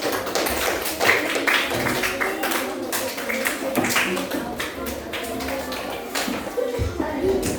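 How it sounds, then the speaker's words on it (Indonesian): A classroom of students applauds for the first presentation group, with dense, steady clapping and tapping running throughout at moderate loudness, busy and close. "tepuk tangan untuk kelompok 1."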